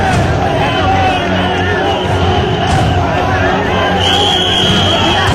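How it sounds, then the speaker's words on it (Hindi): Large crowd at a funeral procession for a martyred army major on city streets, a continuous dense roar of many voices with whoops and rhythmic shouting, loud and close throughout. "केतन शर्मा अमर रहे के नारों से सड़कें गूंज उठी"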